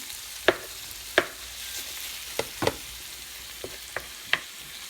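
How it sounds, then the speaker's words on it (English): One pound of ground meat sizzles steadily in a pan while being chopped up. A spatula knocks against the pan in sharp taps every second or so, close and clear, with no talking. "now we're going to go ahead and chop up this 1 pound of ground meat up in there. Let it cook down until it's brown."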